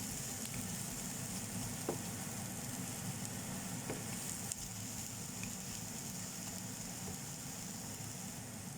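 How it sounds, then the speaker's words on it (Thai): Ingredients for Thai nam phrik khi ka chili paste stir-roast in a pan, giving a steady, faint sizzling hiss with occasional soft scrape ticks of the spatula, alone throughout. "คั่วไปเรื่อย ๆ ค่ะ"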